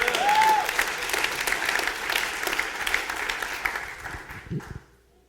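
Audience applause breaks out during a church sermon, a steady wash of many hands clapping that fades over several seconds and stops abruptly near the end.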